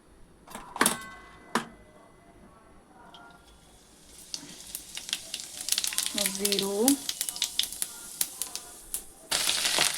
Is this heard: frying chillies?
yes